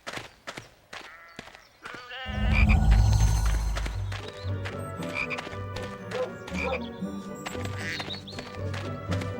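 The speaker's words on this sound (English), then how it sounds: "You'd have to knock the frog out before you can catch it." A chocolate frog croaks in a Harry Potter and the Chamber of Secrets video game, repeated loud ribbits over busy game sound effects and music.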